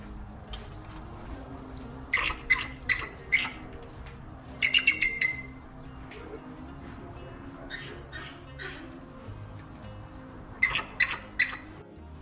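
Bald eagles in a wildlife park's birds of prey exhibit give clusters of sharp, high chirping calls in several short bursts, moderately loud against a steady background murmur.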